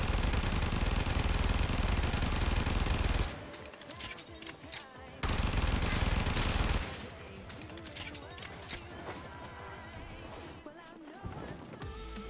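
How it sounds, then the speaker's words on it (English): A weapon fired as fast as it allows in the Warframe shooter, a dense, loud barrage of continuous rapid shots with brief pauses, backed by combat effects and game noise. "I'm firing as quickly as the weapon will allow"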